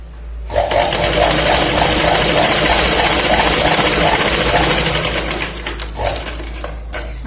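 Electric sewing machine stitching a blouse seam, a loud steady rapid whirring chatter that starts abruptly, runs for several seconds, then slows and stops with a few short stuttering bursts.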